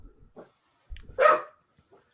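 A dog gives a single short, fairly loud bark, preceded by faint scattered sounds and low thumps, with quiet background otherwise.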